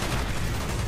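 Gunfire in the Call of Duty: Black Ops video game, a dense, loud, continuous burst of noisy blasts filling about a second, with no talking over it.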